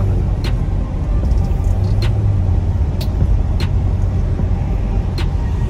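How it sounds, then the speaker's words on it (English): A Corvette Stingray sports car cruising on a road at about 45 mph, heard from inside as a steady, loud engine and road rumble with a few faint clicks and ticks over it. "It's a sports car. You know, it's gonna drive like a sports car."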